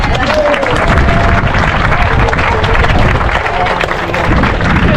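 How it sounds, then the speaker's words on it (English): A running group applauds outdoors in dense, steady clapping with some cheering and crowd chatter mixed in, loud and continuous throughout. "You can give me a round of applause if you want."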